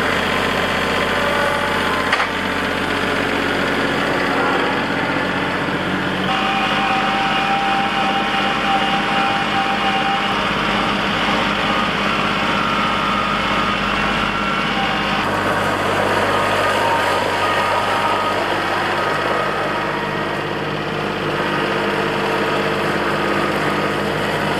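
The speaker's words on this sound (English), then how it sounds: "So let's get the tractor fired up" A Wolfe Ridge 28C tractor engine rumbles steadily at close range, a continuous low mechanical drone with a slight shift in tone partway through.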